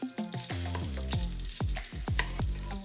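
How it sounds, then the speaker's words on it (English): Bacon frying in a pan, browning for Southern fried cabbage, gives a close, steady sizzle broken by repeated sharp spatters and stirring scrapes. No voices are heard. "we're gonna get this bacon cooked. Get it all good and brown"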